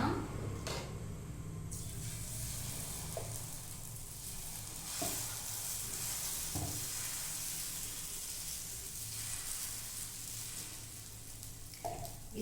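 Egg dosa batter sizzling steadily on a hot pan that was rubbed with onion, a continuous broad frying hiss with a few soft clicks and scrapes, close and unbroken throughout.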